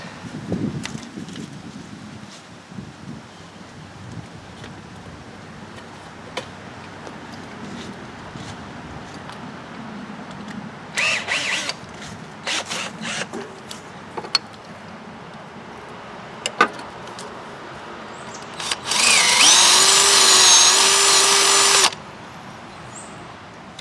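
A power drill with a 1/4 inch bit boring out broken exhaust bolts on a Wheel Horse 520-H garden tractor, a few short tool clicks and bursts before one loud sustained whine of several seconds near the end, outdoors with faint background.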